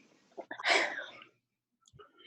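A single sharp sneeze from a person or a cat, close and loud, briefly followed by faint breathing and a soft vocal sound.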